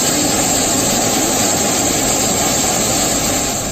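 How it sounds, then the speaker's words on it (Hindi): Russian fighter jets fly as escorts behind a surveillance plane, producing a loud, continuous broadband jet-engine roar with a steady high whine that holds for several seconds. "रूस के फाइटर जेट्स पहरेदार की तरह सर्विलांस विमान के पीछे उड़ते दिखाई दिए"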